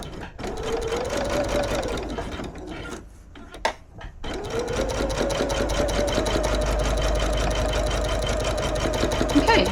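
A sewing machine runs a reinforcing seam on a reversible patchwork bag, whirring loudly and close, pausing briefly, then stitching on steadily to the end.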